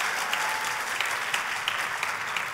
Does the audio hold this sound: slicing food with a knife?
no